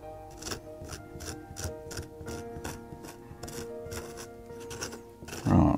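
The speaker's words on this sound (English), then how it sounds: "So this is not actual cheese I'm scraping off here," Mold being scraped by hand off the rind of a farmhouse cheddar blue cheese, repeated rhythmic rasping strokes, close and fairly quiet, ending with a louder brief rustle.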